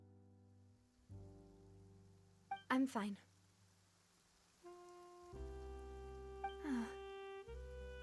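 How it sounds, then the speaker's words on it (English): Steady rain falls as a soft hiss in the video game Genshin Impact, under sustained musical tones, with brief character voices speaking over it. "It's raining."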